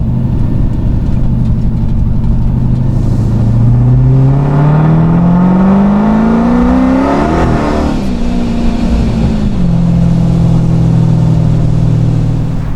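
A car with a 426 HEMI engine revving loudly in neutral in an open parking lot, rising to a strong roar around the seventh second and falling back to a deep rumbling idle, very close and dominant.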